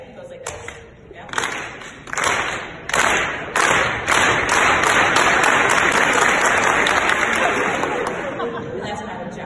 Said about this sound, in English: I always do a clap, you guys. It's kind of like a slow clap